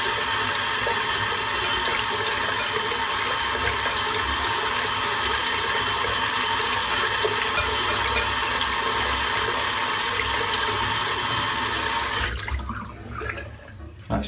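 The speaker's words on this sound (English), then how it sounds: "I'm just going to rinse this off quickly without damaging the label" Running tap water pours steadily and loudly over a shaving soap tub being rinsed in a sink, then cuts off near the end, leaving faint drips and handling sounds.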